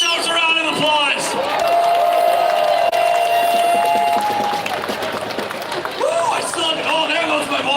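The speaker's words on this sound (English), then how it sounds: "All of you guys, give yourselves a round of applause." Outdoor crowd at a Vancouver Freedom Convoy rally applauding and cheering, a dense wash of clapping and shouts with a whistle cutting through, loud and sustained under a voice speaking over it.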